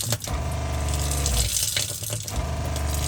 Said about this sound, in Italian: Apri l'acqua.